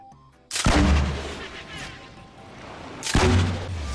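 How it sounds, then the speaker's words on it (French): Two loud rocket launcher blasts in Fortnite, each a sharp booming launch followed by a rushing whoosh that fades, spaced about two and a half seconds apart, close and prominent. "Allez, vas-y, tire là ta roquette"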